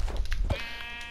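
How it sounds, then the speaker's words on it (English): A Minecraft sheep lets out a single short bleat, close and clear, followed by a brief quiet tail of game ambience. "Sheep. Sheeps."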